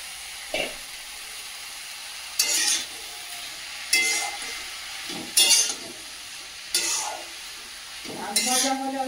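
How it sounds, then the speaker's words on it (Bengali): Chopped leafy greens fry with prawns in oil, a steady sizzle broken by about six loud bursts of stirring and spatula scrapes spaced every second or two. "এই পর্যায়ে কেটে রাখা শাকগুলো দিয়ে দেবো।"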